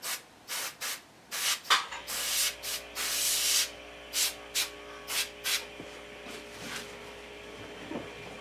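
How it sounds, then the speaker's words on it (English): An airbrush or spray can sprays paint onto a garage kit bust in repeated short hissing bursts, close and fairly loud, with brief pauses between them and a faint hum underneath. "See, I'm spraying a fair lot."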